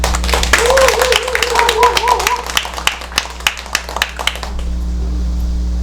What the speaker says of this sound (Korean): 전주 전통문화연수원의 김순석 원장님 큰 박수로 모시겠습니다